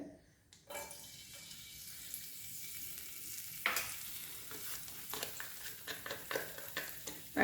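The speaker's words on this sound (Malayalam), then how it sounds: "ഇനി നമുക്ക് ഒരു അര ഇഞ്ച് വലിപ്പത്തിൽ ഇഞ്ചി കൊത്തി അരിഞ്ഞിട്ട് കൊടുക്കാം" Chopped ginger dropped into hot coconut oil, a sudden burst of sizzling after a quiet moment, then a continuing crackle with a run of sharp spoon taps and scrapes toward the end, close and without talking.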